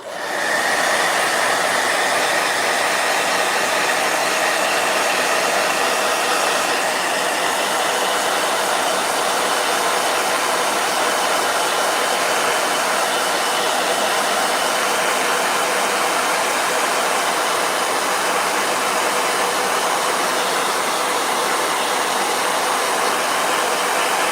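A blow dryer runs loudly and steadily close by for the whole stretch, a constant dense whooshing roar with no pauses and no voices.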